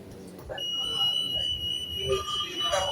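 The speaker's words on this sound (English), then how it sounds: "There's an alarm going off." A high, steady electronic alarm tone sounds continuously while a person talks over it.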